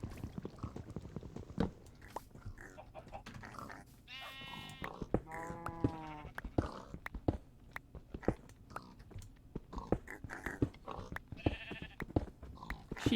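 A Minecraft Skyblock sheep gives a couple of short, clear bleats over a busy bed of game clicks, crunching and tapping sounds, with no talking.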